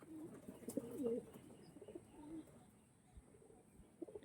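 Andhra and Chennai breed pigeons coo softly at close range, a few low throaty coos near the start and scattered quieter calls afterward, with no talking.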